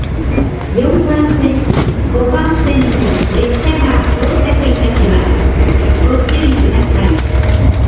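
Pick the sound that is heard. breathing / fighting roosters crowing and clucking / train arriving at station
train arriving at station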